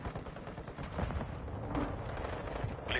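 Call of Duty gunfire crackles in quick bursts over a dense, muffled background rumble, fairly continuous throughout.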